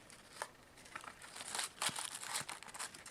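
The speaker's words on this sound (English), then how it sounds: "So I'm going to remove this tissue paper," Tissue paper crinkles and rustles faintly and steadily as it is pulled from the box of a Hornby Class 06 mechanical shunter model locomotive, with no speech over it.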